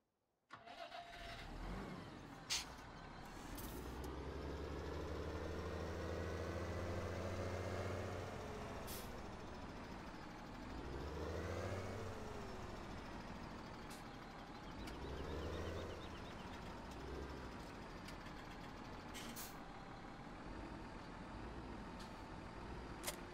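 Tractor engine in Farming Simulator 17 with the Seasons mod runs as a steady, loud low rumble throughout, rising and falling in pitch as it revs, with a few sharp hissing bursts like air brakes.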